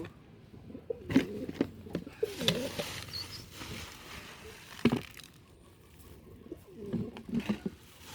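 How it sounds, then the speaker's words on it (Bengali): Pigeons feed on mixed wheat and paddy grain, with scattered pecking taps and rustling of grain and soft cooing throughout, in a quiet setting. "কবুতরগুলো খাচ্ছে আরাম করে"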